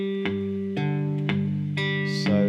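A three-string cigar box guitar is fingerpicked on open strings at a brisker pace, five or six plucked notes ringing into each other with bright attacks and sustained drone, close and clear without talk.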